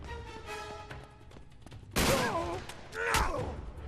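Magnum pistol shots in the PS4 game Uncharted 3, two loud bursts about a second apart, each followed by ringing debris and crashing effects, with quieter game action before them.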